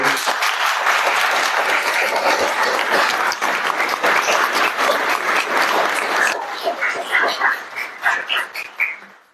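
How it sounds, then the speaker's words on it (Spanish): An audience applauds at a poetry book presentation with sustained, full clapping for about six seconds, then thinning into scattered, fading claps. "Un aplauso para el maestro Saúl."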